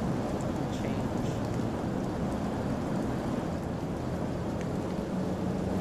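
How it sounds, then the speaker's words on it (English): Steady rain with low thunder rumble from the horror video game Fears To Fathom, a dense continuous wash of falling rain filling the background without pause. "I don't like how I hear the rain in one ear."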